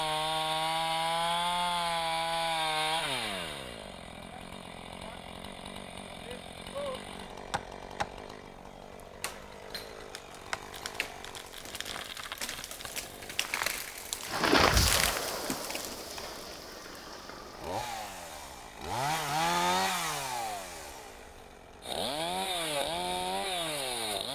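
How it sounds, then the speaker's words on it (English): A chainsaw felling a tree in a Swedish forest revs loudly at close range, then grinds through the wood with uneven cutting noise. A sharp crack comes partway through, and the engine surges again near the end. "The felling cut determines the direction the tree will fall."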